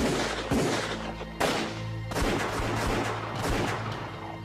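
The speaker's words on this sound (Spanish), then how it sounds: "así que empezamos a disparar." Gunfire from a guerrilla shootout, with several sharp bursts of shots at roughly one-second intervals over a dense, sustained rumble of battle noise.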